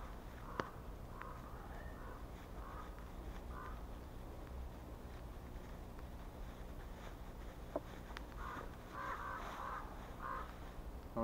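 Crows caw repeatedly in a forest, with several hoarse calls scattered through the stretch, fairly distant, over quiet outdoor ambience with an occasional sharp click.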